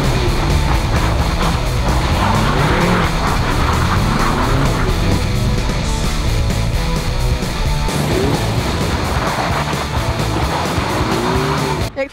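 A car skids and slides on snow, its engine roaring and revving hard while the tires spin and squeal. The noise is loud, close and continuous for the whole stretch, with no talking.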